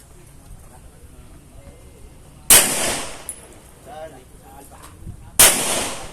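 Two sharp, loud gunshots from a 1911 pistol at a practice range, spaced a few seconds apart, with an instructor speaking briefly in between.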